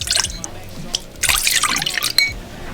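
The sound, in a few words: pouring soy sauce, water and sugar into a mixing bowl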